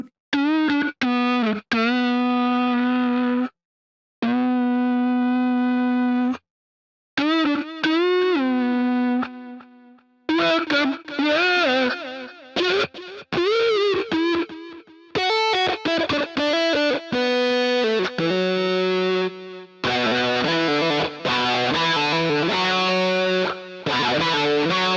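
A human voice, processed through distortion and chorus effects in FL Studio, sings and hums in short bursts and sustained notes that sound like a buzzy, overdriven electric guitar, with silent gaps between the phrases.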